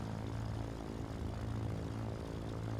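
A propeller aircraft engine, started with a primer pump and start button, drones steadily and loudly with a strong low hum throughout, running on its own without any talk over it.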